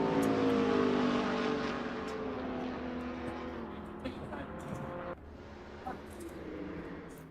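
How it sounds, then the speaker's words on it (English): A BMW Z4 GT3 race car in a racing video game at an e-motorsport championship gives a loud, sustained engine drone whose pitch shifts with occasional quick changes as it runs in traffic. "Nakib Aslan running in a very loud and very pretty Z3 GT3"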